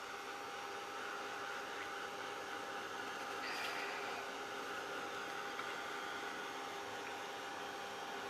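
A handheld hair dryer blows steadily and close up, drying a steampunk heart spray embellishment for a top hat; the broadband airflow hiss stays constant, swelling briefly midway as it shifts.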